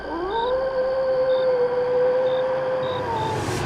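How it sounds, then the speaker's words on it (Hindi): A jackal howls at night, one long sustained wailing call that rises, holds steady and then fades, with a few short faint higher calls from farther off and a soft background hiss. "फिर सियार की आवाज सुनाई दी।"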